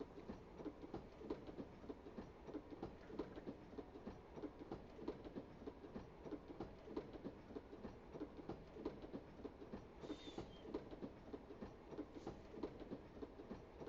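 A train passes in a video game, a faint, steady rumble with rhythmic clickety-clack of wheels over rails, continuing unbroken and fairly distant with no voices.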